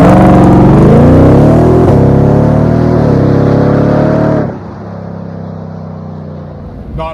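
A 2023 Ford F-150 Raptor R with 700 horsepower launches hard, its engine roaring loud and close as the pitch climbs through gear changes, then dropping to a softer, receding drone.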